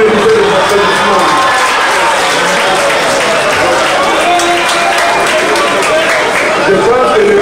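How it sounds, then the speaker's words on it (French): A large crowd of Congolese diaspora at a gathering with the president applauds and cheers steadily throughout, loud and dense, with shouts and voices mixed into the clapping. "Il faut applaudir pour vous-même, vous méritez les applaudissements."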